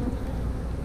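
Honey bees buzz in a steady, dense low drone during a hive inspection, a continuous close swarm sound with no pauses.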